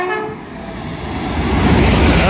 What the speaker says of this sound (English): Pass through now, barely another minute later, is a Hull Trains Paragon from Hull to London King's Cross.